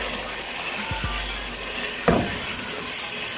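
Tandoori chicken pieces fry in the leftover oil once the water has cooked off, giving a low, steady sizzling hiss with a brief clatter near the middle and no voices.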